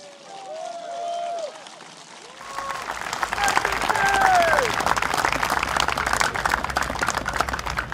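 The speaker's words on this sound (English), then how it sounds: "can we once again give yourselves a round of applause, please, and cheers?" Crowd applause and cheering at a Singapore election rally in a stadium, building from quieter clapping into a loud, dense ovation that carries on. Nearby voices are mixed in.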